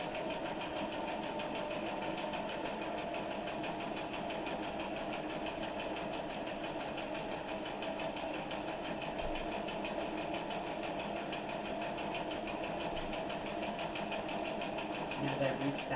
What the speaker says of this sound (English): I'll start sewing down that first line